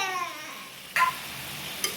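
Six or seven whole black peppercorns frying in a pan, a soft sizzle broken by two sharp crackling pops, the first louder than the second.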